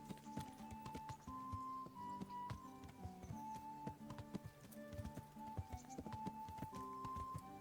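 Horse hooves clip-clopping in the video game Kingdom Come, a steady run of soft rhythmic hoof taps under quiet game music.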